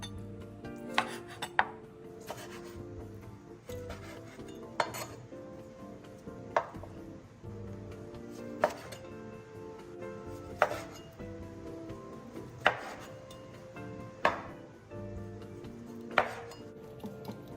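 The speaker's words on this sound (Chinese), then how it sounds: "切成2至3公分見方塊狀" Knife chopping pork belly into 2–3 cm cubes on a board, a steady series of sharp, close thuds roughly every second over a faint background hum, no talking.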